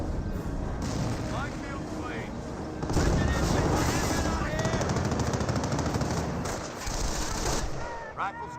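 Dense, continuous machine-gun and rifle fire with booming explosions from a Company of Heroes World War II strategy game battle, loud and unbroken throughout, with a commentator's voice mixed in.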